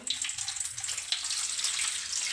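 Finger millet stirred and rinsed by hand in water in a small pot, giving a steady splashing, sloshing wash with small bursts of swirling water throughout, close and fairly loud with no talking.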